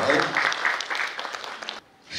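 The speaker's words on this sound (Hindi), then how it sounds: "कृपया जोरदार तालियों के साथ स्वागत कीजिए मलयजन साहब का" Audience applause welcoming a speaker on the third evening of a festival program, a burst of clapping that pulses with a loose rhythm before cutting off abruptly, with faint talk nearby.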